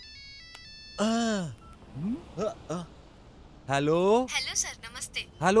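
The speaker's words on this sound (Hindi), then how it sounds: "अरे फोन है। अरे मेरे पास फोन है।" A mobile phone in a Hindi-dubbed action film scene plays a short stepped electronic ringtone melody, fairly quiet, before voices answer and talk.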